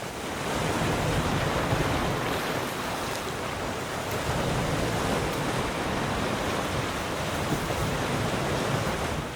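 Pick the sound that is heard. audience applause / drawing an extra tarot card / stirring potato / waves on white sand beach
waves on white sand beach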